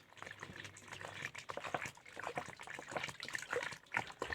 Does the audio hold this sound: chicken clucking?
no